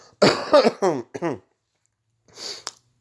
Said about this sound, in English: that was badly timed cough